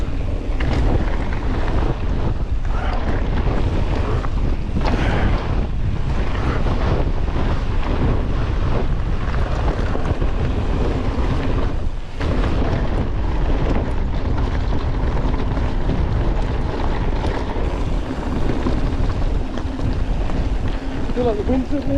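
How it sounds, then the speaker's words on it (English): Strong wind buffets the microphone on a mountain bike descent at Llandegla, a steady loud roar throughout with riders talking over it. "It is windy."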